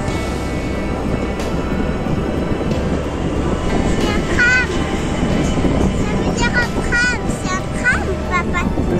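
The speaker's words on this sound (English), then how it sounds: "C'est un tram, papa." A tram rumbles along steadily and loudly, with high metallic squeals from the wheels on the rails toward the end.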